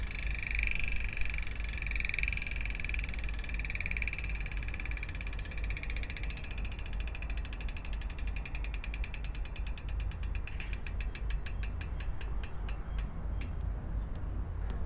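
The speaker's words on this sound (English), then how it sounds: "custom made wheels from Evanlite on their own hubs with 36 tooth ratchet" A bicycle rear hub with a 36-tooth ratchet freewheel buzzes in a fast, even clicking run while coasting, heard close and alone, with the clicks gradually slowing and spreading apart toward the end as the wheel loses speed.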